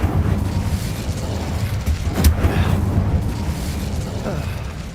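The Incendio fire spell is cast in Hogwarts Legacy, a loud, rumbling burst of flame with a sharp crackling peak midway over a continuous low roar, close and dense throughout.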